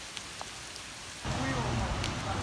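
Rain falling at a car wash around a 1966 Dodge Charger, quiet at first, then swelling abruptly into a loud, steady hiss of rain on surfaces.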